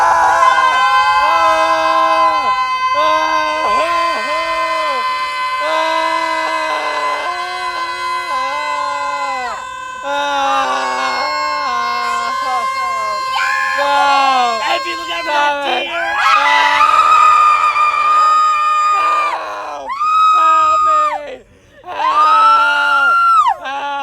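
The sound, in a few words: people screaming for thirty seconds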